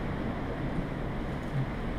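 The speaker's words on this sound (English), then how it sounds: "You can hear the wind right now." Strong wind on a gusty South Dakota day rumbles as a steady, low, muffled roar buffeting the microphone, constant and fairly faint, with no voices.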